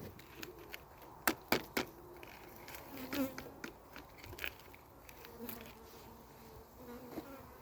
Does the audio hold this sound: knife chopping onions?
no